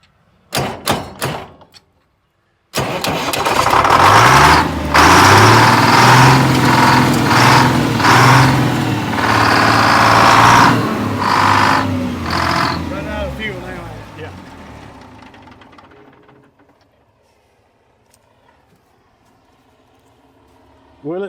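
A side-by-side Detroit 6-71 diesel power unit, started on ether, catches with a thump and roars into a loud, steady, rough-running idle, then gradually fades down to near quiet.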